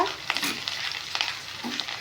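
Onions with ginger, garlic and cumin paste fry in a pan with a soft sizzle, broken by a few scraping stirs of a spoon.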